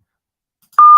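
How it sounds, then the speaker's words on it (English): A censor beep sound effect cuts in abruptly after near silence, a loud, steady, pure electronic tone lasting to the end. "I gotta beep these people cussing when they come up in here"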